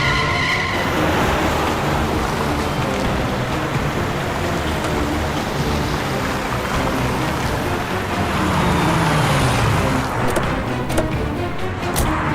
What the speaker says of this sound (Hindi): सर, वो देखिए, सुनहरी गाड़ी।